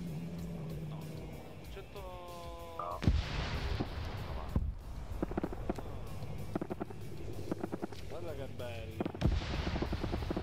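Explosions and bangs from mortar fire in a large-scale WW2 multiplayer shooter game, Germans versus Soviets, with several sharp loud blasts and crackling impacts amid continuous battle noise, while a voice talks over it.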